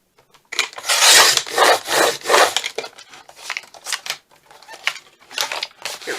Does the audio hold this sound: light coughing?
no